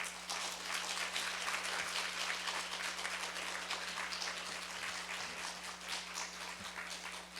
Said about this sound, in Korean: 우리 장로님 박수로 환영하겠습니다